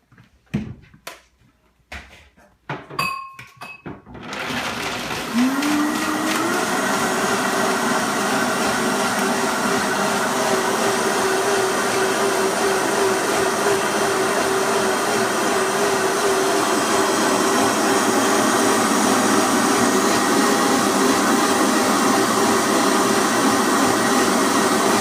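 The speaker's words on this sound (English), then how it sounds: "we're going to blend this and get it nice and completely blended" A few knocks and clatters, then a blender motor whirs up and runs loudly and steadily blending cashew sauce, its high whine holding for the rest of the clip.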